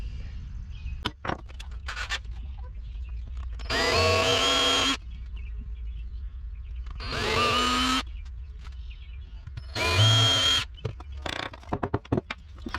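A power drill runs in three bursts of about a second each, enlarging holes in a Gold Cube sluice with a bigger bit. Each burst is loud and close, with quiet handling and tapping between them.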